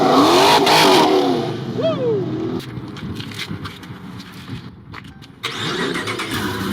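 Supercharged Dodge Challenger engine firing up and revving, a loud starter crank into sharp rising revs, then a lumpy idle with a final burst of throttle near the end, voices faintly in the background.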